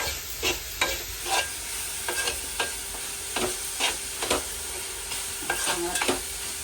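Grated coconut roasting in a pan for laddu, stirred with repeated scraping strokes of a spoon over a soft steady sizzle, close and rhythmic.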